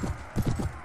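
Horse hooves clip-clopping in the Mount & Blade video game, a quick run of four or five close thuds in a brisk uneven rhythm.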